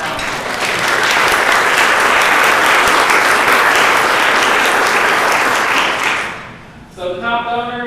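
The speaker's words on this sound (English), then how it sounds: "please give them a round of applause" A roomful of people at a lunch event applaud for donors, loud and continuous for about six seconds, then fading out as a voice begins speaking.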